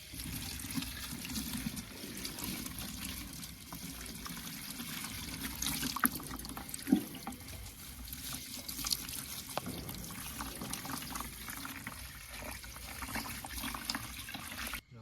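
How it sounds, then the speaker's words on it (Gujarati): Garlic is washed under a running tap, giving a low, continuous trickle and splash with a few soft knocks, quiet and steady throughout. "મિત્રો આપણા પહેલાં લસણ ધોઈ નાખી ચોખ્ખા પાણી"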